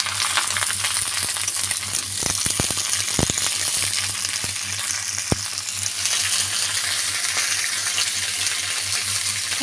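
Pumpkin pieces tip into potatoes already frying in hot oil for a vegetarian jackfruit-seed curry, giving a steady close sizzle with a few sharp clinks and taps of utensils against the pan and no talking.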